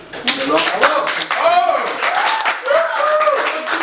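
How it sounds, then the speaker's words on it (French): Clapping from a small group in a student kitchen, cheering a chef who has just made a homemade pizza. The applause runs steadily under continuous lively voices and calls throughout. "Un tonnerre d'applaudissements pour chef Rémi."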